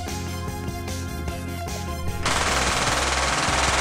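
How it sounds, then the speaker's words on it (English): Tommy gun firing in a Roblox video game, a rapid sputtering burst of automatic fire that starts partway through and continues steadily to the end, over a background of game music. "Ava literally has a Tommy gun."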